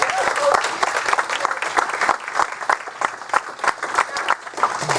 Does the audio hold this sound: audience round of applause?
yes